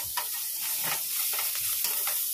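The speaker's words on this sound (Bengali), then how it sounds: "পেঁয়াজটাকে একটু লাল লাল করে তেলে ভেজে নিচ্ছি।" Onion sizzles in hot oil, a close, continuous frying hiss broken by rhythmic stirring scrapes roughly every half second.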